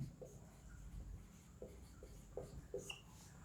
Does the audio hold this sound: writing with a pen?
yes